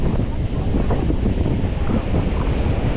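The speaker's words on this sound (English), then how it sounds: "Crazy windy out here." Strong gusting wind roars and buffets the microphone on a beach in Bradenton, Florida, with ocean surf crashing steadily underneath, loud and continuous throughout.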